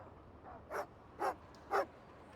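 A dog barks in a video game while sniffing out a rabbit's warren, three short barks evenly spaced about half a second apart over a quiet background hum, with no talking.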